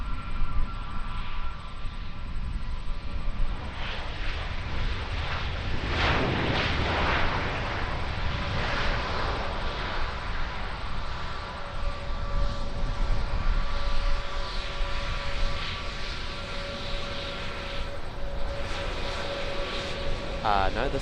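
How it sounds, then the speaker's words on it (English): An Airbus A320neo jet departing Auckland Airport, a rumbling engine roar that swells and shifts with a whining tone through the middle, with people talking over it. "Another A320 Neo just heading out now too"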